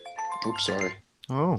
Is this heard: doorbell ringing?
yes